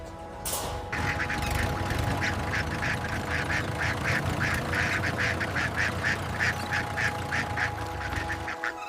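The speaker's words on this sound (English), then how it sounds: "Look out, the ducks are coming through." Ducks at a farm market quack in a rapid, continuous chorus of close, loud calls over a steady background din, following a brief sharp noise at the start.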